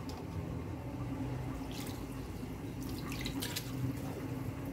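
Cold water running steadily from a kitchen tap while a dish is being prepared, a continuous close splashing rush with a few brighter drips and spatters over it.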